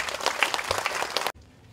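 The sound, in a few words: applause for the mothers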